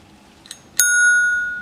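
A bicycle bell on a Ryedale Dutch-style traditional bicycle is struck once with a faint tap just before, giving a bright, clear ring that sustains and slowly fades, close and alone.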